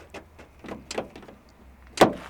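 Car passenger side door handle tried on a locked door at an auction, a few soft clicks and clunks followed by one sharper latch knock, close and fairly quiet.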